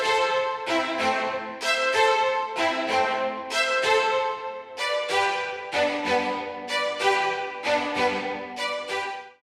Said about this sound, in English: the staccato part sounds like this